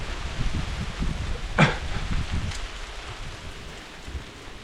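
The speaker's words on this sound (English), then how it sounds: "Got a little hail going on out here right now." Hail falling outdoors on a mid-November day, a steady broadband patter with a brief sharper rustle near the middle, constant and moderately loud throughout with no voices.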